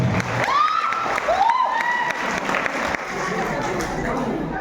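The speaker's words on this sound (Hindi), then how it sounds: "एक जोरदार ताली हमारे जान बिरादरी के लिए।" Applause and cheering from an audience of teachers at a head master's speech in Sheohar, a continuous crowd wash with a few rising shouts and whistles near the start, fairly loud and steady throughout.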